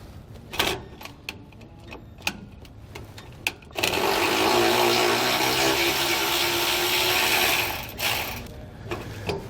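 A socket wrench on an extension loosens a bolt during a helper spring install on a 2018 Jayco Greyhawk, with several sharp ratchet clicks followed by a sustained whirring mechanical burst, then quieter clicks.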